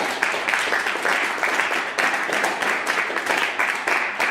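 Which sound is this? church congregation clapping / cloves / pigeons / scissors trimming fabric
church congregation clapping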